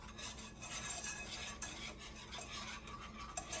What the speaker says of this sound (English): And then we are just gonna whisk this.